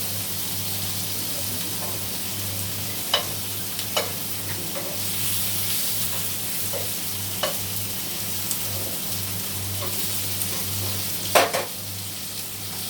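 Close, steady sizzling of fish frying in a pan, with a few sharp pops and crackles now and then.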